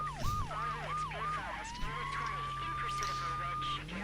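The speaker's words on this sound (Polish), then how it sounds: "Włączamy syreny, jedziemy." A police car siren in the video game Need For Speed III: Hot Pursuit wails in quick rising yelps, then switches to a long steady tone over a low engine hum.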